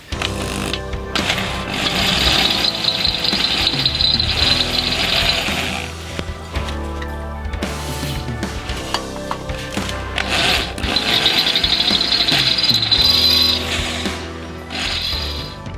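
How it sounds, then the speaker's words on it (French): A drill boring an 8 mm hole for a stud during a repair: loud, close, sustained grinding drill whine in two long bursts separated by a brief lull, no talking. "le trou de 8 mm est fait. Je déteste percer"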